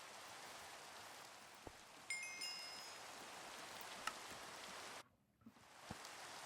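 Rain falls steadily in the Minecraft video game as a soft, constant hiss of drops, with a few faint game clicks and a brief dip into near silence toward the end.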